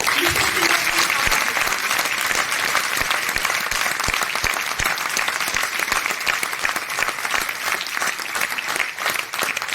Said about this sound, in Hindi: मैं एक बार ही चाहती हूँ कि जोरदार तालियां।